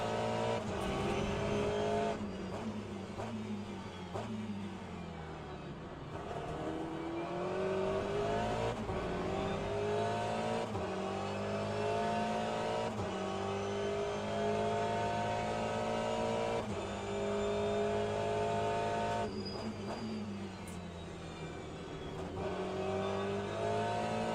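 Race car engine in the Le Mans Ultimate racing game, loud and continuous throughout, rising and falling in pitch through repeated upshifts and downshifts with brief lifts, no voices.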